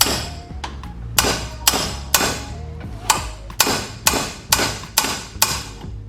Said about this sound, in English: A few taps of the sledge and a little bit of WD-40